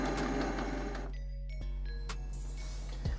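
A Canon Pixma MP495 inkjet printer running its printhead cleaning cycle, with whirring motor runs, mechanical clicks and tonal whines as the carriage shifts, heard close and alone.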